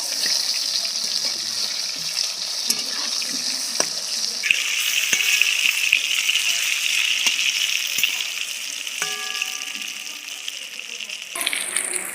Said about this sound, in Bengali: এক পিট ভাজা হয়ে গেছে আর এক পিট আমি উল্টে নিচ্ছি বেগুনগুলো